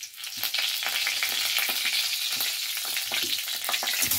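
Whole cumin, cinnamon and bay leaf fry in mustard oil in a kadai, giving a steady close sizzle with crackling pops and occasional stirring scrapes.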